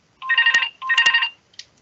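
A mobile phone rings during a States parliamentary meeting: two loud bursts of an electronic ringtone with a short pause between, then a brief faint chirp. No one speaks.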